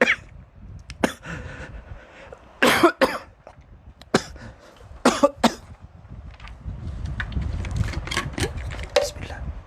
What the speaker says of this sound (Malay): Minta maaf, terbatuk. Tersedak.